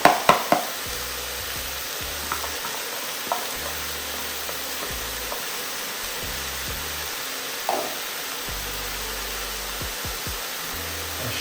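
Turkey bacon fries in a pan with a continuous hissing sizzle, a few sharp knocks of a utensil at the start and scattered clinks later.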